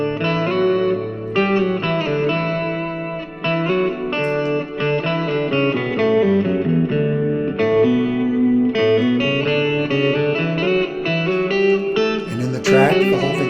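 A distorted guitar solo layered with the same line an octave lower, two voices moving in unison through sustained, reverberant melodic phrases, steady and loud, with no speech.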